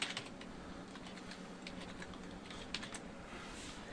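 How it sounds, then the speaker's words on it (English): Typing on a computer keyboard: a steady run of light, close key clicks with a few sharper taps standing out, heard alone without any voice. "And we'll just type in localhost."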